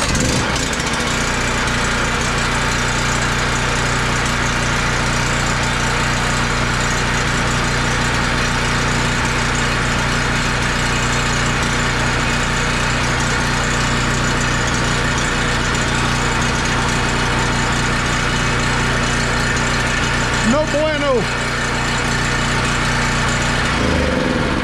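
A Predator 4000 generator runs steadily and loudly with a constant engine drone and hum throughout, showing a brief change in pitch near the end.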